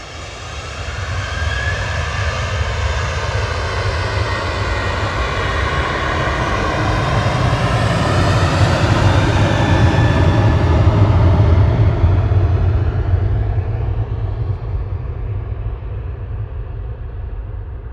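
A jet airliner departing Manchester Airport for Marrakesh roars steadily and loudly, its engine tone sweeping down as it passes, with no voices.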